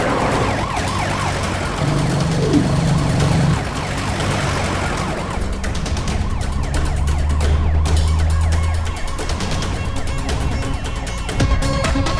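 An ambulance siren wails in a repeating rising-and-falling pattern over loud traffic and engine rumble, staying close and steady throughout.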